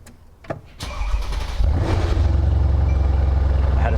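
A Mercedes-AMG C63S W205 is started with the push button: a few clicks, then the starter whirs and the engine catches with a loud flare before settling into a deep, steady idle rumble.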